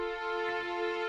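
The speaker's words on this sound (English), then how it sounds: "But if I play two notes, then it's essentially like 6 violins on each note." A Strezov Afflatus violin section holds two notes at once with auto-divisi splitting the players, giving a steady, bright, sustained chord that stays loud and even throughout.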